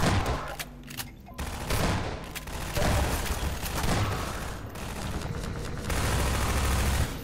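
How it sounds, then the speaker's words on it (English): An enemy firing at the player in Half-Life 2, with loud bursts of rapid gunfire and cracks filling the clip, pausing briefly before resuming in heavy volleys. "He's shooting me again!"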